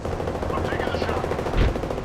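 Apex Legends gunfire in a sustained dense rattle of rapid shots with a heavier burst near the end, all mixed with game noise and faint voice.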